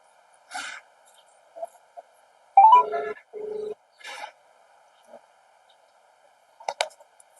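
A phone call ringing tone before someone answers, heard as a few short, moderately loud tonal bursts spread over several seconds in an otherwise quiet room, without talk.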